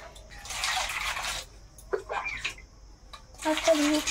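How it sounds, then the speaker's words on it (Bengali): Cold water poured and splashing over freshly boiled eggs in a kitchen, coming in bursts with drips and trickles between them. "দাঁড়াও, ঠান্ডা জল দিই, গরম কিন্তু হাত দিও না।"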